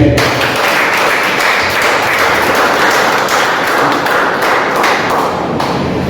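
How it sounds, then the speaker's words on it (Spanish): Congregation applause during a church sermon, loud sustained clapping from many hands filling the hall evenly for several seconds without voices on top. "Dale un aplauso a Cristo."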